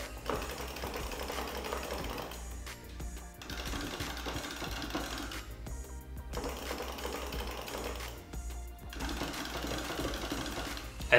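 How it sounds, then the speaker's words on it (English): A Sanwa JOF lever on a Mayflash F300 Elite fight stick worked rapidly back and forth, producing a dense, continuous rattling chatter of clicks in long runs broken by brief pauses, close up and fairly steady in level. "Now do the lever test."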